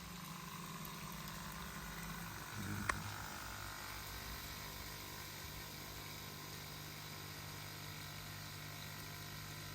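A Bauknecht Whirlpool dishwasher circulation pump runs on 220 volts, giving a steady, even electrical hum with a faint watery churn, broken by one brief click near the start.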